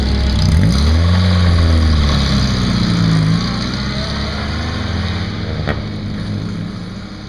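A car drives along and accelerates, its engine drone rising in pitch and then settling into a loud, steady hum.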